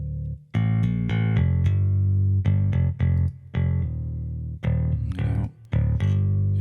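Bass through a saturation plugin on its desk setting plays a choppy riff of short, punchy notes separated by brief gaps, with a warm, slightly gritty saturated tone.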